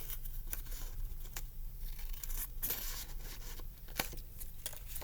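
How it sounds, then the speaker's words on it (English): Scissors cutting paper held and turned by hand, giving a steady run of crisp snips and rustling paper with a few sharper clicks, close and fairly quiet, with no talking. "I'm holding the paper still, I'm holding the scissors in one spot, and I'm moving the paper as I need."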